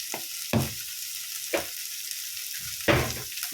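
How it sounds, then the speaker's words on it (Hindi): Onions with turmeric sizzling in a pan for jowar poha, a steady low fry punctuated by three or four louder bursts as the mixture is stirred. "हमें इसे ऐसे ही भूनना है फिर इट बिकम सॉफ्ट।"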